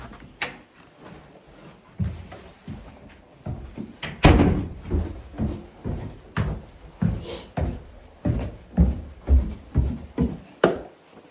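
A house door leading down to the basement from the garage bumps and rattles repeatedly, with a run of thuds and knocks that grows into a regular, fairly loud rhythm of impacts close by.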